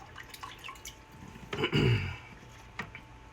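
A few faint drips of water, then a brief louder splash of trickling liquid as a DTF printer damper is flushed, followed by quiet with one more small drop.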